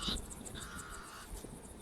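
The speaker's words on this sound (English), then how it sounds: "The pied crows sound the alarm again." Pied crows give harsh alarm calls in the African wild, with a short caw and a drawn-out rasping call rising over faint background noise.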